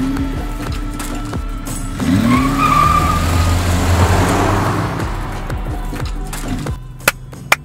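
A Porsche Panamera Sport Turismo GTS wagon drives past, its engine note rising to a steady, moderately loud roar mid-way before fading, with a couple of sharp knocks near the end.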